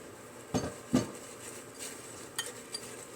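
Oats and flour tipped into a mixing bowl for a baking recipe, giving two soft, close thumps with a brief rustle, followed by faint light clinks against the bowl in a quiet kitchen.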